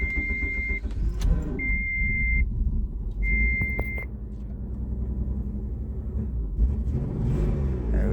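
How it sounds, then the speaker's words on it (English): A Dodge Stealth sits idling with its engine rumbling low and steady, while repeated electronic warning chimes beep in separated tones and keys clink near the start. "So I'm gonna go ahead and get her started up"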